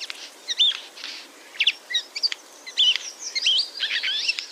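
A Eurasian jay gives a run of short, sharp chirps and scratchy calls in irregular bursts, fairly close against a quiet background.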